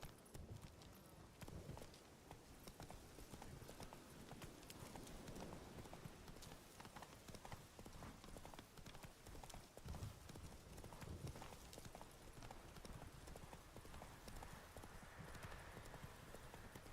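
Roach gallops in The Witcher 3: Wild Hunt, a faint, fast and steady run of hoofbeats that carries on through the whole passage.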